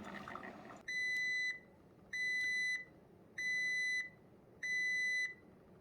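A Cuisinart Coffee Center 12-cup SS-15 coffee maker beeping at the end of a rinse cycle: four evenly spaced electronic beeps, clear and steady, each lasting about half a second, with no talking.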